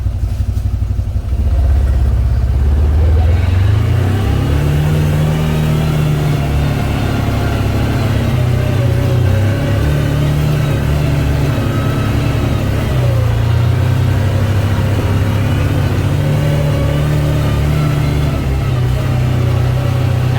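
A UForce side-by-side bogged in wet mud on a rural backwoods property revs hard and steadily, its engine drone loud and close with shifting pitch and clattering as the wheels lose traction; no talking.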